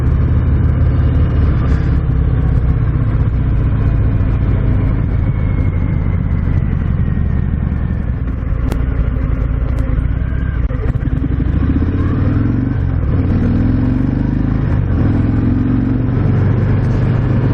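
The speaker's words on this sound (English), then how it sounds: "Nice throttle response. It's real smooth application of power here." A 2019 Harley-Davidson FXDR 114 motorcycle engine rumbles steadily and loudly throughout, deep and continuous with a slight swell in revs toward the end as the throttle is applied smoothly.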